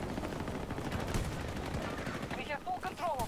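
Rapid sustained LMG suppressive fire in the video game Battlefield 2042, dense loud automatic bursts running continuously with overlapping explosions and game effects, and a few higher tonal sounds near the end.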